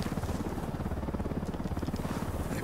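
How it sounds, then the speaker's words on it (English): A helicopter in Ghost Recon Wildlands drones steadily, its rotor blades chopping in a fast, even rhythm. It sounds fairly close and is heard alone, with no talk over it. "Hit the dirt, helicopter."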